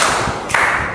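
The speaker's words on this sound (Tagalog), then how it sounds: "Mr. Carl, nabigyan natin siya ulit ng isang palakpak" Brief burst of clapping from a classroom audience during a teaching demonstration on assessment, a few sharp close claps lasting under a second.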